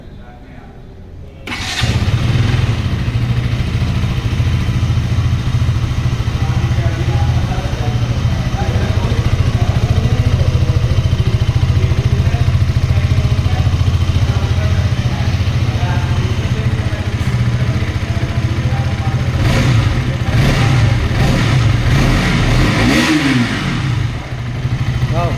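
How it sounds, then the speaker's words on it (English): A 2022 KTM RC 200 motorcycle engine cranks and catches, then settles into a steady, loud close-up idle with a couple of revs near the end. "Now we are gonna start the bike."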